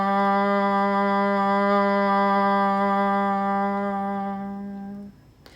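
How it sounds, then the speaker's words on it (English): A single voice hums a steady nasal NG tone for a crown chakra mantra. The rich buzzing drone holds about five seconds, fades slightly at the end and carries no words. "It's an NG sound coming from the back."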